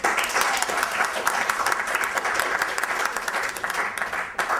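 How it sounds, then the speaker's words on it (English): A small group applauds during a social-skills talk session, continuous dense clapping close by that holds steady and then thins near the end. "Give him a round of applause."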